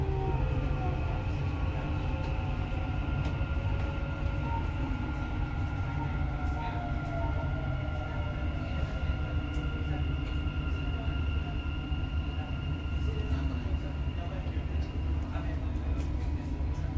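A Dubai Metro train runs with a steady rumble and rail roar and faint tonal whines, heard from inside the car, continuous and moderately loud throughout.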